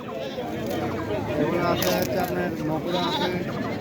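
Goats bleating at a village goat market, several loud overlapping calls close by amid crowd chatter and people talking.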